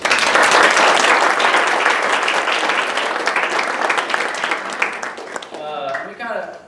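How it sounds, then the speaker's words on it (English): Guests at a softball team awards banquet break into loud, full applause that gradually thins out and fades, with a voice starting to speak near the end. "So I think they deserve a big round of applause."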